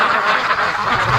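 Ducks quack loudly and continuously from close by in their pen on a snowy morning, their overlapping calls forming a dense nasal chorus with no speech.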